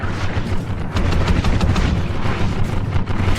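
Rapid gunfire fills a Call of Duty underwater combat scene, dense repeated bursts and booming shots, loud and continuous throughout.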